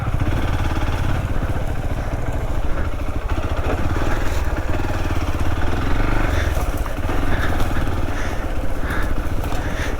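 A motorcycle rides along a forest trail, its mid-pitched engine droning steadily up close with some clatter from the rough ground, and no talk over it.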